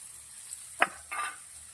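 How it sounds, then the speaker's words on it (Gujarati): Chopped onions go into a pan with cumin, asafoetida, garlic and green chilies, giving a faint sizzle under a couple of brief stirring scrapes and clinks. "તમારી 2 ડુંગળી નાખું છું"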